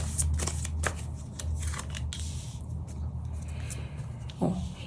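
A deck of tarot cards is shuffled by hand in a quiet room, with soft, repeated riffling and flicking close by.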